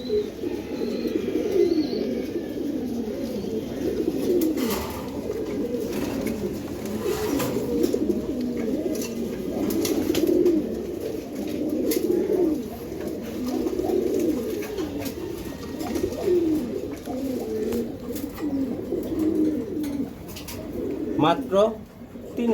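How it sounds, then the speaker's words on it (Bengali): A pair of white Giribaz pigeons, a male and a female, coo steadily in a low, rolling rhythm close by, with other birds chirping faintly and someone speaking now and then over them. "দেখেন এখানে একজোড়া কবুতর আছে"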